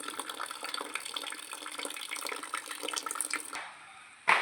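Water draining out through a small hole in a can, a steady close trickling and splashing that runs for several seconds, then thins out and ends in a brief knock.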